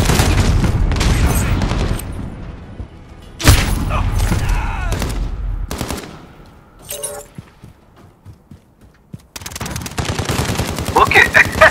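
Loud bursts of shotgun fire from a first-person shooter, Call of Duty: Modern Warfare, crack out in several heavy blasts spaced across the stretch, with busy in-game noise filling the gaps and a player talking over parts of it.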